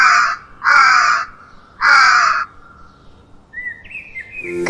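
A crow caws three times in strong, evenly spaced harsh calls, each close and loud, followed by a faint higher chirp near the end.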